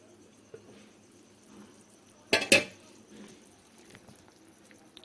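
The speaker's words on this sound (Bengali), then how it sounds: "ঢাকনাটা তুলে নিলাম, ঝোলটা ভালো করে ফুটে গেছে।" A metal lid lifted off a pot of simmering fish curry (parse fish jhal) gives two quick, close clinks in a quiet kitchen, with faint bubbling and small scrapes around them.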